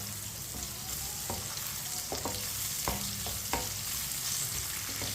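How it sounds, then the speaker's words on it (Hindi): Finely chopped onions with whole cumin and coriander seeds sizzle steadily in hot oil while a spoon stirs them, giving a constant frying hiss broken by several sharp scraping clicks. "प्याज को मिक्स कर लेंगे।"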